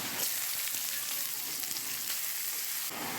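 Garlic and chillies fry in hot oil for goat trotter nehari, a loud, dense and steady sizzle that holds throughout with a slight shift near the end.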